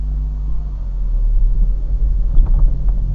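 A 2004 Acura RSX base model with a 5-speed manual drives off, heard from inside as a steady low engine and road rumble that swells slightly, with no talk.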